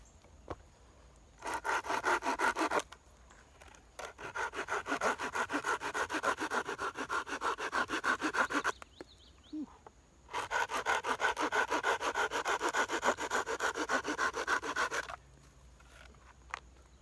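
A folding hand saw cuts through a one-inch piece of dried oak in three long bursts of steady, rhythmic rasping strokes, separated by short pauses, close and clear.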